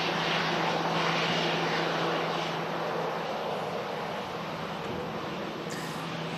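An EasyJet airliner approaches Manchester Airport in strong storm winds, its engines a loud continuous roar with gusty wind buffeting, slowly fading slightly as it passes.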